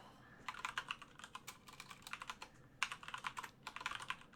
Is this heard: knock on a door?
no